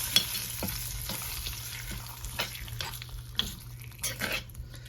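Ridge gourd chutney ingredients being stirred and scraped in a pan, with a steady low sizzle of frying underneath and irregular utensil scrapes, close and moderately loud.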